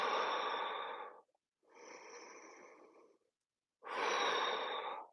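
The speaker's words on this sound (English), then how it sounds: "And breathe." Deep, slow breaths during a yoga child's pose in an athletes' recovery class: a long exhale, a softer second breath, then another full exhale, close and audible with short silences between.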